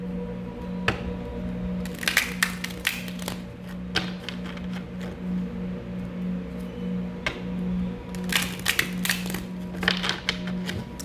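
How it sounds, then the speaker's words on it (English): Tarot cards shuffled during a reading, a run of soft riffling taps and flicks that cluster in bursts at the start and near the end, over a steady low hum, with no talking. "She wants me to shuffle again."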